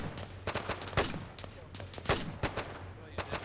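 Bren light machine gun firing in ARMA 3 with a WW2 mod, several sharp loud shots and short bursts spaced irregularly over steady low game ambience.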